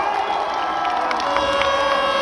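The audience at a Ramleela performance in Mukundpur, Delhi, claps and cheers in a dense, continuous crowd roar with scattered shouts.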